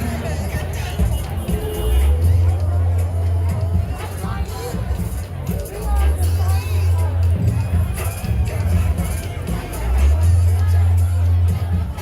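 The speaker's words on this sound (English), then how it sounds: "Crowd is still building" A crowd gathers at a Seattle street protest where people are making chalk art, producing a steady, loud hubbub of overlapping voices with a low, pulsing hum recurring beneath it.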